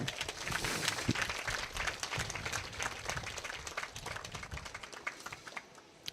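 Audience applause at an emotional public speech, a dense crowd clapping steadily and fairly close for several seconds before tapering off at the end.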